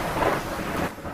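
Heavy rain and thunder roll as a story sound effect, with a loud, broad rushing downpour and a low rumbling swell that eases off toward the end of a short burst.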